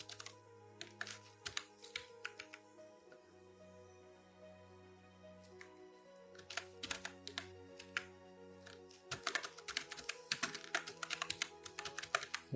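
Keys clatter on a computer keyboard in bursts of fast, close typing, with short pauses between runs and a steady low hum underneath.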